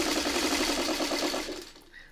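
A sewing machine stitches a quilt block for a windmills quilt, running in a fast, steady chatter of close stitches for about a second and a half before slowing and falling quiet.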